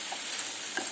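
A beef roast mixture with raw banana is stirred in a pressure cooker, giving a brief, soft scrape over a faint sizzle, close and quiet, with no voices.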